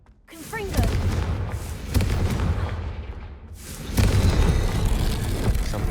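Confringo fire spell blasts in Hogwarts Legacy, a loud burst of booming, crackling impacts followed by a second heavy explosion a few seconds later, with sustained rumbling noise between them.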